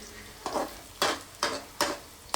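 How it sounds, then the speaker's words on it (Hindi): Onion, cabbage and mushroom fry together in a pan, with five sharp spatula scrapes and stirs at roughly half-second intervals over a quiet background sizzle, close up and with no talking. "प्याज भून चुका है, पत्ता गोभी भी भून रहा है देखो।"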